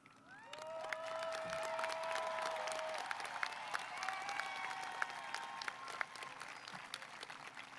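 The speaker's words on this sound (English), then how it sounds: "Will all cum laude students please stand now so we may applaud your achievements." A high school commencement crowd applauds as cum laude graduates stand, with steady sustained clapping throughout and a long sustained tone running under the clapping in the middle.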